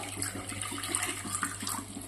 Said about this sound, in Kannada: ನಾನು ಸ್ವಲ್ಪ ನೀರು ಹಾಕ್ತೀನಿ ಇದಕ್ಕೆ